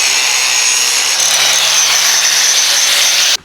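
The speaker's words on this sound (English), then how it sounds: "Now I just gotta grind it back so it'll fit through the washers and whatnot." An angle grinder cuts down the end of a metal bolt so it will pass through washers, a steady, loud, continuous high-pitched grinding that runs unbroken for several seconds before cutting off abruptly at the end.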